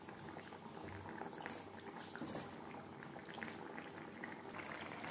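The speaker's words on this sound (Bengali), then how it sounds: "গ্রেভির সাথে মাছ আরও 3-4 মিনিট রান্না করব।" Tilapia fish curry bubbling and simmering in its gravy in a pan, a steady dense boil with soft popping close by and no voices.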